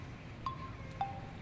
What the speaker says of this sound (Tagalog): Sarap kasi mahangin.